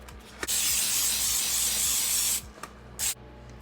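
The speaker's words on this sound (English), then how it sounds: "I would recommend maybe using a baking spray for this because you want it to release" Baking spray hisses from a can into a cake pan for a peach cake: one long, loud, steady burst lasting about two seconds, then two short puffs. No one talks.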